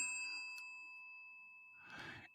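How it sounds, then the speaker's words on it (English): A single bright bell ding sound effect rings out and sustains with a long, clean, fading tone, followed near the end by a brief breathy noise. "You get a bell for that."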